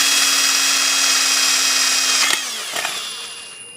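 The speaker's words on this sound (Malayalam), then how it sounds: "ഈ ഒരു ഹോൾ ഇടാൻ വേണ്ടിയിട്ട് നമ്മൾ ഈ ഒരു ഡ്രിൽ മെഷീൻ തന്നെയാണ് ഉപയോഗിക്കുന്നത്" A power drill bores a hole into a battery charger cabinet, a loud steady high whine that holds for over two seconds, then slows and stops, followed by a brief second burst and fading motor noise.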